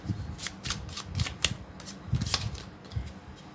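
Tarot cards are shuffled close up in quick bursts of crisp, papery riffles, five or six rapid flurries with short pauses between them and no voice over the sound.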